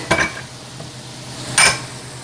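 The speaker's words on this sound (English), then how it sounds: "Both of those dishes can go into the sink." Two clattery ceramic knocks as dishes from melting butter and cooking onions and garlic are set into a kitchen sink, one near the start and a louder one about a second and a half later, with quiet kitchen hum between.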